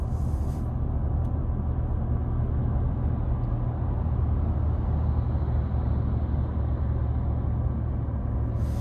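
A 2026 Ford F-150 XLT with a naturally aspirated 5.0 V8 cruises along, a steady low engine drone and road rumble heard from inside the cab, continuous and unbroken with no talking.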